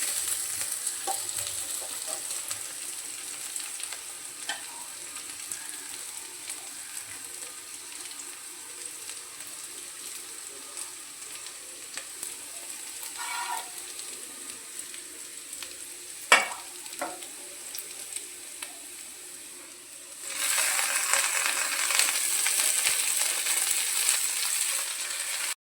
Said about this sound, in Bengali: পেঁয়াজ, রসুন আর লঙ্কা যখন হালকা লালচে করে ভাজা হয়ে যাবে তখন এর মধ্যে দিয়ে দেব